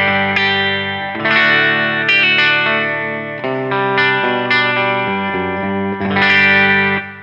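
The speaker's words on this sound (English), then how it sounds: "Now, because this is like a 59 style humbucker, it's not super high output, so we still have a lot of that kind of presence and cut." Electric guitar, an LT Custom Privateer single cut played through the bridge humbucker, a 59-style unit with its coil split: glassy, chorus-tinged sustained chords ring out loud and alone, with effects adding shimmer.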